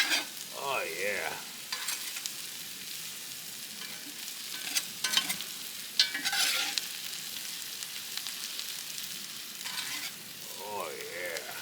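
Sausage and sliced peppers sizzling in a pan while being stirred, with repeated scraping and clattering strokes over a soft crackle; close, moderately quiet, with brief squeaky utensil sounds.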